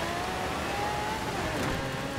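A car engine revving in the racing game Forza Horizon 4 during a winter championship race, a steady loud drone with a faint rising whine, sustained throughout without talk.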